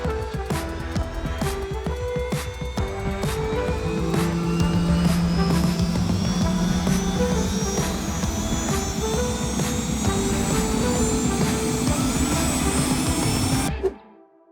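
A Bell 505 helicopter with matte blue camo paint and long skids in flight, heard from inside as a steady loud turbine whine and rotor thump, continuous throughout before cutting off at the end.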